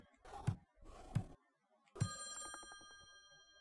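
An in-game telephone rings in the Friday the 13th: Killer Puzzle video game: two ring bursts, then a third that fades out with a ringing tone, close and clear with no talk over it.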